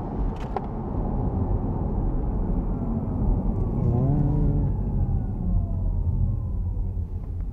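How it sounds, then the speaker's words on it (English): A rising synthetic electronic whine from a 2021 Porsche Taycan Cross Turismo electric car swells as it accelerates, layered over road and engine rumble, with a voice talking over it. "So when I accelerate, you get this. It's like a spaceship taking off."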